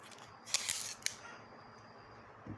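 Adhesive tape is wrapped and pulled tight around two batteries while building a 12-volt 20-amp pack, giving a few quiet, close rasping pulls in quick succession followed by near silence.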